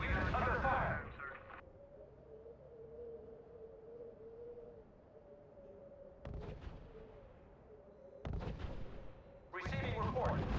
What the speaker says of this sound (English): Our units are under fire.